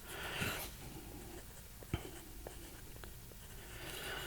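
A pen or marker writes on a small piece of wood, making soft scratchy strokes with a few light taps, close and quiet in a calm room.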